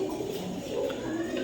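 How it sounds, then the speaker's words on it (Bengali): Pigeons at a pigeon farm coo in low, soft warbling calls that repeat close by, with a few overlapping and no talk. "এই যেটা মাদি কবুতর সামনে চলে আসছে আর এই যে তার নর কবুতর"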